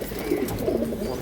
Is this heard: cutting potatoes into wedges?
no